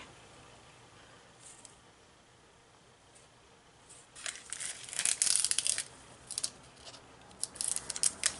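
A glassine bag in the back of a handmade fairy journal crinkles as it is handled, with quiet sporadic rustles, then louder bursts of crinkling in the last few seconds and no talking.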